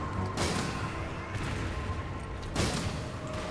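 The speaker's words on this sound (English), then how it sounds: "There goes all the grenade launcher rounds." Grenade launcher rounds go off in Resident Evil 5: three faint, dull bursts spaced about a second apart over a steady low game background.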